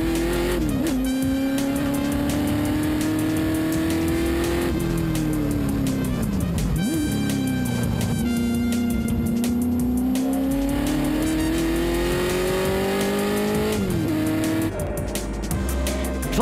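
A Lola and a Ford GT40 race car battle closely on a hill circuit, engines howling loud and continuous with rising and falling pitch through gear changes, a brief tire squeal, no talking.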